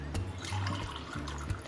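Water is poured into a pot of Andhra-style country chicken curry with chili powder and turmeric, a close, steady gush with a faint splash, running alone without talk.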